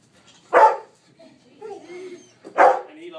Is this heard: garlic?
no